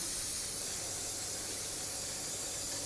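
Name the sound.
spraying brake parts cleaner on wheel hub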